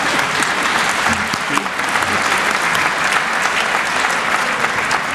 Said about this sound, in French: Fethi Ben Slama est très sport, il applaudit François Burga.